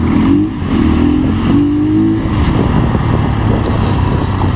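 A police motorcycle engine revs and accelerates past in street traffic in Islamabad, a loud close rising engine drone with a pitch sweep amid steady road rumble.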